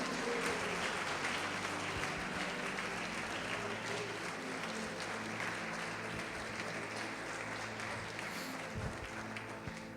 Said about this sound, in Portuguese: Agora pode aplaudi-lo e glorificá-lo.